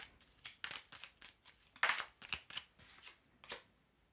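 Tarot cards being shuffled and drawn for a reading, a series of quiet, irregular papery riffles and flicks close to the microphone with short pauses between them.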